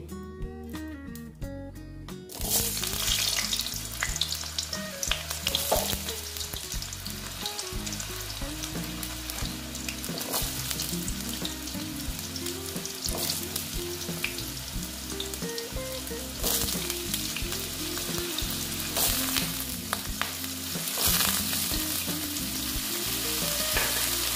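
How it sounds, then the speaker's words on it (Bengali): Potatoes fry in hot oil in a home kitchen, a steady, close sizzle that stays loud and continuous with occasional stirring clatter after a brief quiet start. "আলুটা দিয়ে এই যে আমি একটু ভেজে নিচ্ছি"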